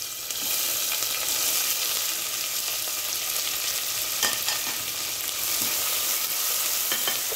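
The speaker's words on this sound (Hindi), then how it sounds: "अब मैं इसमें प्याज डाल देती हूँ" Onions hiss and crackle in hot oil with browned cumin seeds in a pan, a steady dense sizzle with occasional stirring scrapes, fairly close and continuous, no voices.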